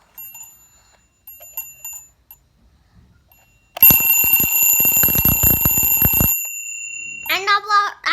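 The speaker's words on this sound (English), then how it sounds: "So this is on a switch that hammer will hit the bell." A twin bell vintage alarm clock rings loud and close, its hammer rapidly striking the bells in a steady metallic clatter for a few seconds before stopping, with a few faint clicks beforehand and a voice speaking right afterward.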